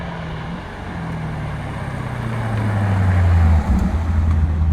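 A Lexus GSF/RCF running on a new $2,200 aftermarket exhaust drones low and steady, building louder as the engine climbs, then a quick dip before settling into a deep sustained rumble.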